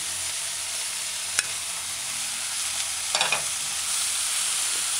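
Chopped eggplant and sautéed vegetables sizzle in a pan over a steady frying hiss, with a few sharp utensil scrapes and clicks as everything is stirred together.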